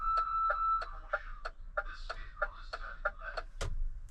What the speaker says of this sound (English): The left indicator, when activated, will make the left warning alarm sound.